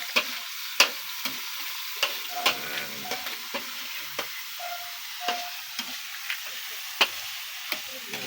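Garlic, onion and tomato sauté in a pan for a fish dish, a steady soft sizzle broken by regular sharp clinks of a utensil scraping and stirring against the pan, with no voices.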